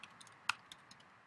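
Light keystrokes on a computer keyboard as a web address is typed, a few faint scattered clicks in a quiet room.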